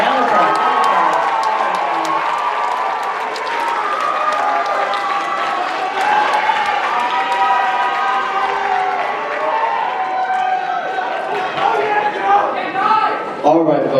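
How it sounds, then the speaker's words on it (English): A show audience bursts into loud applause and cheering as contestants return, dense clapping mixed with whoops and shouts that carries on for about fourteen seconds, with a voice calling out near the end. "Yeah, round of applause."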